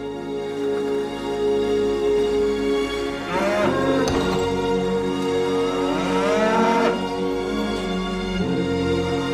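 Cows mooing in the Auvergne countryside, two long drawn-out lowing calls a few seconds apart over steady outdoor background, fairly close and clear with no talking.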